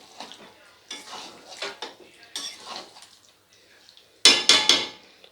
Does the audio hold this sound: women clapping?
no